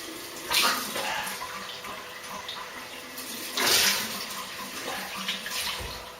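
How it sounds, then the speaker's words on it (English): Water splashing from a running tap as a face is rinsed after a shave, close up, with two louder bursts of splashing over a steady flow and no talk. "so I just rinse off"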